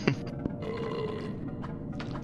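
A cartoonish burp sound effect from the video game We Need To Go Deeper, a short rumbling belch rising over steady game background noise.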